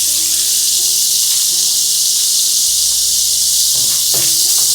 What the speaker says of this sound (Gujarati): બટર ઉબળી જાય